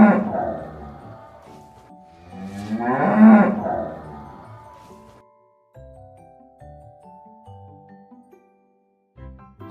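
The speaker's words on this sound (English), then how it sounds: "Cow." A cow lets out a long, low moo that swells and fades over a few seconds, close and clear, followed by light music with simple tinkling notes.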